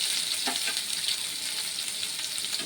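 Spice paste sizzles loudly in a pan with black cumin, a steady bright frying hiss with faint stirring scrapes, close and continuous with no talk.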